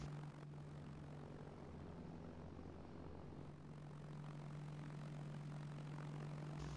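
A steady propeller-plane engine drone from a Cessna in a video game hums low and even throughout, a fairly quiet, continuous mechanical tone without speech.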